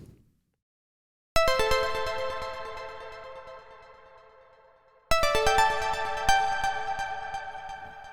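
Bright, plucky synth lead with a narrow EQ cut scooping out part of its tone, played as two sustained phrases of quick repeated notes that decay gradually, separated by a short gap of silence.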